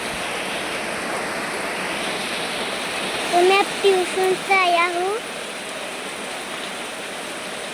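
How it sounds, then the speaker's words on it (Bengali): Steady rain falling outdoors, a constant hiss throughout, with a person speaking briefly over it midway. "बारिश गिर रहा है"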